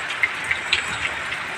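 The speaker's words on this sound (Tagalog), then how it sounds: "Ulan na." Rain falls outdoors near a grinder at a work site, a steady close hiss of drops with a few sharper ticks of droplets striking a surface.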